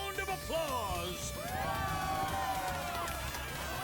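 A crowd at the Golden Saucer in the Final Fantasy VII Rebirth game erupts in cheering and whoops, layered over bright, sustained musical tones for several seconds.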